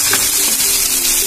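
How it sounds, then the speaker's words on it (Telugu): Chopped onions fry in hot oil for chicken poha, a loud, close, continuous sizzle with a steady hiss and faint bubbling throughout, with no talking. "ఇప్పుడు దీంట్లో ఆనియన్స్ వేసుకుందాం"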